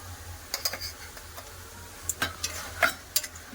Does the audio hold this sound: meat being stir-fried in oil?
yes